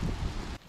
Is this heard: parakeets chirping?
no